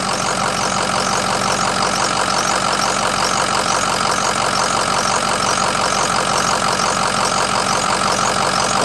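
A Ford F350 with a 6.0 diesel engine idles just after starting, a steady, loud, even rumble close by with no talking.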